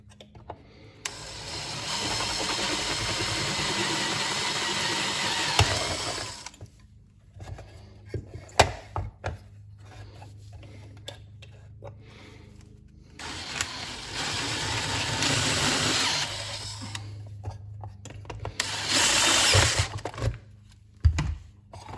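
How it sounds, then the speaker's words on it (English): Two long stretches of loud, harsh power-drill whirring as rivets are drilled out under a Mustang's hood, separated by a quieter gap filled with clicks, clanks and light handling noise. "I'm gonna have to drill those out."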